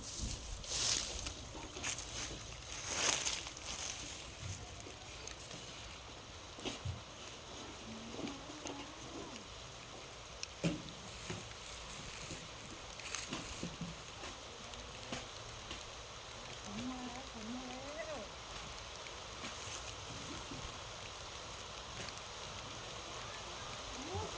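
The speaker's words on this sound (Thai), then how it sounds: "ฝนตกแล้ว" Rain falling outdoors as a storm arrives, a steady soft hiss of drops with scattered heavier patters and taps throughout, fairly faint and continuous, with no talking.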